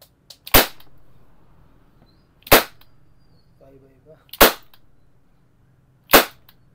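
A CO2 airsoft pistol, a Wingun or Umarex VFC G19X, fires four sharp, loud, close cracks spaced about two seconds apart, with near silence between them.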